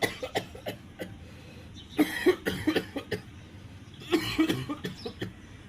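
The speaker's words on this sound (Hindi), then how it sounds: "इस बुड्ढे को भी हमेशा खांसी ही लगी रहती है" Repeated hoarse coughing fits from an old man, several bursts of harsh rasping coughs with short pauses between, close by.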